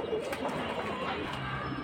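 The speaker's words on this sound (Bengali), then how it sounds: "লফটে অনেক কবুতর আছে।" Soft pigeon coos sound close by inside a pigeon loft, a few low throaty calls repeating over faint background noise.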